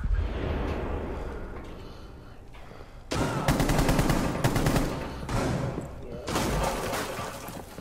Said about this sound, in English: I shot Twitch in the head